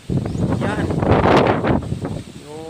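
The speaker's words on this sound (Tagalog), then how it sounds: "Nagkabugso-bugso yung hangin." Gusting storm wind sweeps through coconut palms, roaring in surges that buffet the microphone, with rustling and blustery rushes rising and falling while people talk nearby.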